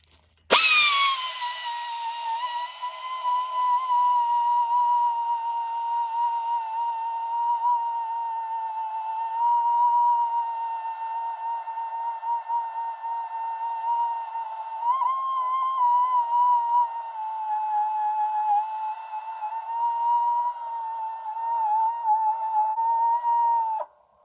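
Belt sander grinding old welds off a 9-inch rear end housing, a steady, loud high-pitched whine that runs continuously with slight pitch wavering.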